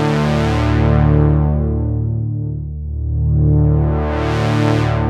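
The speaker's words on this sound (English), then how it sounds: "So this is a Curtis chip filter from the OB-X8 and the OB-8." Oberheim OB-X8 synthesizer through its two-pole Curtis chip filter with no resonance, a sustained buzzy chord whose brightness sweeps down and back up, loud and alone with no talk.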